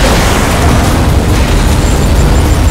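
A plane exploding in the racing game Skydrift, heard as a loud, sustained, dense roaring blast that fills the whole moment, with no talk over it.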